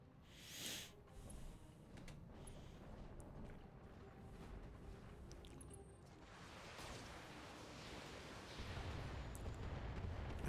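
SRM missiles fire and burst in the Battletech video game as a low rumbling barrage of distant explosions that swells and rolls on, growing heavier toward the end.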